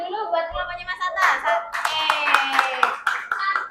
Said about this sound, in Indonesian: Oke, tepuk tangan dulu buat kelompoknya Mas Atta.